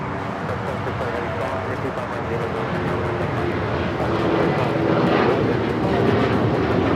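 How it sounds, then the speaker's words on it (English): An American Airlines Boeing 737-800 takes off from Los Angeles LAX bound for Chicago, its jet roar steady and rising slightly toward the end, with a voice talking over it. "American Airlines 1077 taking off to Chicago on the 737-800."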